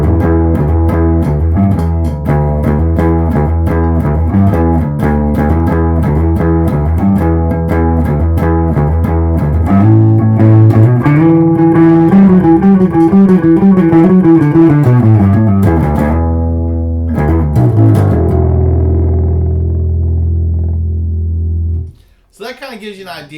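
An Ibanez SRX 700 bass guitar played loud through heavy effects, sustained distorted tones sliding and shifting in pitch, then a sudden cutoff and a brief return at the end.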